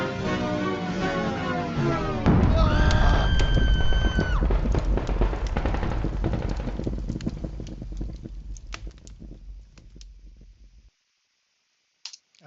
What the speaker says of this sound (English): We had some fire crackling sounds. We also had a gunfire